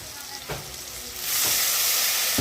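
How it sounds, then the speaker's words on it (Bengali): Half a spoon of chili powder with cumin powder fries in a pan of vegetarian curry, a close sizzle with a few stirring scrapes that swells louder and hisses more brightly midway. "লঙ্কার গুঁড়ো হাফ চামচ কষিয়ে নেওয়া হচ্ছে ভালো করে"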